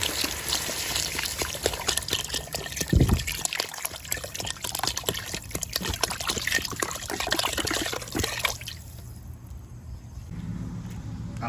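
Water pours steadily into a cooking pot for nam ngiao soup, a close, continuous splashing trickle that thins out near the end, with no talking.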